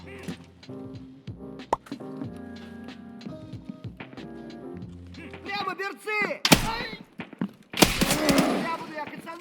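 Enemy scav gunfire in Escape from Tarkov, a series of sharp shots cracking loudly in the latter half, some in quick bursts, following a stretch of quieter game sounds with a voice talking over it.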